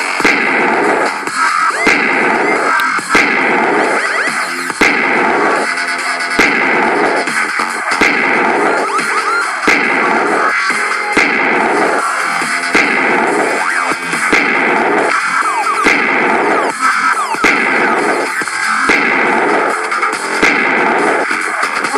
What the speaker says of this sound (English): If you're not hearing my voice because of the dubstep gun sounds, yeah, I apologize for that.